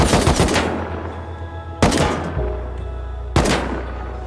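Gunfire from the survival game Rust, fired at a chainlink-walled base: three sharp, loud bursts spaced about 1.5 seconds apart, each cracking hard and trailing into a rumbling echo and low steady hum.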